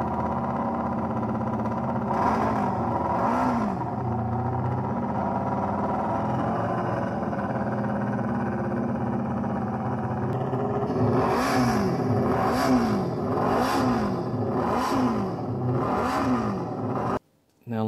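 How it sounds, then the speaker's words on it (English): A racing motorcycle engine roars continuously, revving up and down in repeated rising and falling sweeps, loud and close, then cuts off abruptly at the end. "listen to the four-cylinder."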